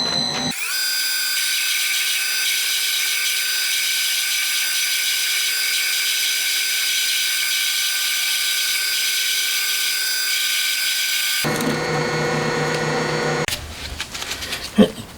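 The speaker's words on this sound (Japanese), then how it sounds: "あとは突っ切りで切っちゃえばいいんですね" A lathe parting off a metal workpiece with a cut-off tool while a camshaft is made for a 125cc twin-cam 16-valve four-cylinder engine, a loud, steady high-pitched whine that stops abruptly and is followed by softer handling noises.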